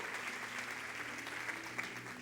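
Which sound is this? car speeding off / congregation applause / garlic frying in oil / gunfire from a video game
congregation applause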